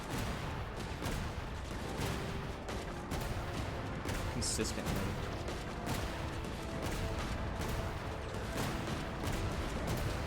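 In Genshin Impact, a player shoots toward the ground and sets off a dense, continuous barrage of area-of-effect explosions and impacts, loud and steady throughout, with a voice speaking briefly.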